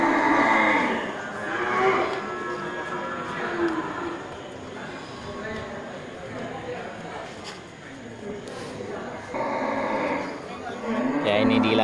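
Aceh cattle lowing at a busy livestock market stall, several loud, drawn-out moos rising over continuous crowd chatter and general market bustle throughout.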